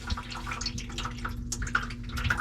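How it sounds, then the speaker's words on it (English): Water drips from a faucet supply pipe into a pan under a sink during a Moen faucet installation, a steady scatter of small close taps and trickles with no talking. "Just going to slide my pan over because this water is going to start leaking."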